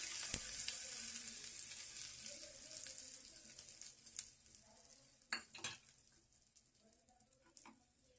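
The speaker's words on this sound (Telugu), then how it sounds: "తాలింపు అయితే వేగిపోయింది. ఈసారి మనం ఇందులో కూడా వేసేసుకుందాం." A spice tempering for cucumber chutney frying in a pan, heard as a quiet, fading sizzle with a few brief clinks of a spoon against the pan near the end, close by and without talk.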